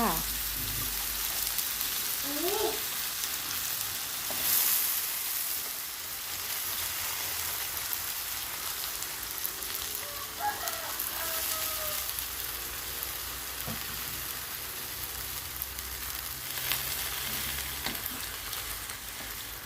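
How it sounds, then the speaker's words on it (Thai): Steady crackling sizzle of morning glory greens stir-frying in a hot pan, with occasional scraping stirs and faint background voices. "ใส่ลงไปแล้วก็ผัดให้เข้ากันสักหน่อยนะคะ"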